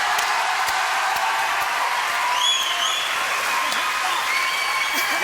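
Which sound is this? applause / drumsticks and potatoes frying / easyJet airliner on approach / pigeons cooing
applause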